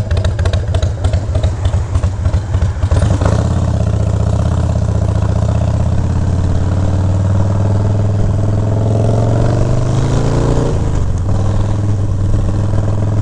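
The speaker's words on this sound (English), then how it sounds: "Definitely sounds really good, really clean at idle now." A Harley FXR motorcycle engine idles steadily and close by, a loud, even low rumble with faint clatter that holds for the whole stretch and dips briefly near the end before settling again.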